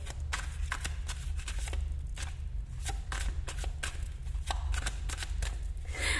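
Tarot cards being shuffled by hand, a close run of crisp riffling snaps and soft slaps repeating irregularly throughout.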